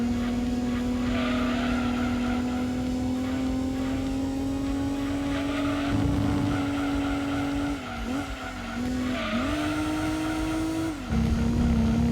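Racing car engine in Gran Turismo 2 on PlayStation: a loud, sustained drone that climbs steadily in pitch, dips and recovers as gears shift near the end, with brief tyre scrubbing and no talking.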